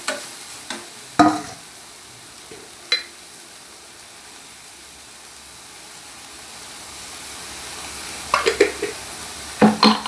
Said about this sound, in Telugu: క్యారెట్ అయితే వేసుకొని బాగా కలుపుకోవాలండి